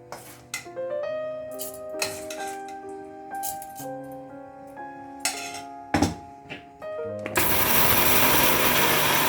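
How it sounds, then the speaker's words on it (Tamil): Dishes clink and rattle at close range, then a wet grinder starts and roars steadily as it grinds soaked rice and roasted urad dal into flour. "இப்போ இதை நான் கிரைண்டரில் மாவாக அடித்து எடுக்க போகிறேன்."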